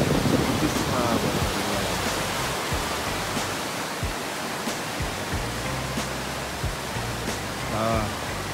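A river running high with lots of water rushes steadily and broadband throughout, loud and continuous, with faint voices briefly present near the start and end.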